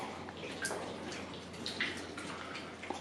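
An underground river flows through a limestone cave beneath an island village on Okinoerabu, a steady soft rush of water with faint drips and splashes, fairly quiet and continuous.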